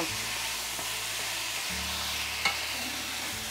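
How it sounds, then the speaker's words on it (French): Soy sauce hitting a hot pan, with a steady broadband sizzle and frying hiss running throughout, a low hum underneath and one brief tap of a utensil partway through, no voices. "je vais ajouter la sauce soja salée, l'équivalent d'une cuillère à soupe"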